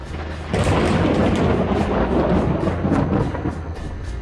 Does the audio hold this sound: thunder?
yes